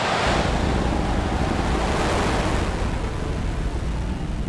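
SpaceX CRS-18 rocket launch just after ignition: a steady, dense, roaring rumble that stays loud and unbroken throughout, like heavy wind or surf, with no voices.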